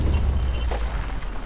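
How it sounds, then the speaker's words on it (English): Robocop smashing through a wall in a video game, a deep booming low-end impact with a rumbling debris tail that fades over about a second and a half. "punch through the wall"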